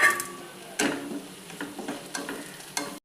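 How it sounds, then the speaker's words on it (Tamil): Onions frying in a pan with curry leaves and red chillies, a soft sizzle under repeated scraping strokes of a spatula, close and fairly quiet, with no talking. "வெங்காயம் நல்லா வறுபடட்டுங்க. வெங்காயத்தில் அந்த கலரும் சேஞ்ச் ஆகணும், நிறம் மாறணும்."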